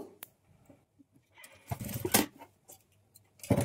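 A sewing machine runs in short, faint bursts while stitching a dori onto a boat-neck blouse, with a couple of louder whirring runs separated by near-silent pauses.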